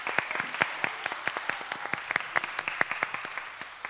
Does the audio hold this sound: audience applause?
yes